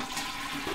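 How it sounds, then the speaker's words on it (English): A toilet flushes in the Deltarune video game: a brief, close rush of swirling water, heard alone without speech. "You flush the toilet."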